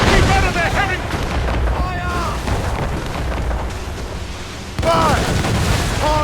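Ship cannons boom in a naval battle in Assassin's Creed Rogue, a steady rumble of broadside fire with a heavy burst near the end, while voices shout orders over the din.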